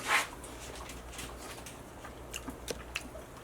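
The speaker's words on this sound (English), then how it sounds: "The pork tenderloin literally melts my mouth. I hardly have to chew it at all." Close chewing of pork tenderloin in pepper, mushroom and white wine sauce: a bite at the start, then soft wet mouth sounds and a few small crunches, quiet and intimate.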